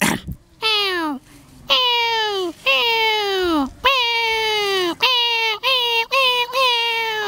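A performer's voice mimics a cat, producing a series of whiny meows that rise and fall, about eight in quick succession, loud and close with short gaps between them.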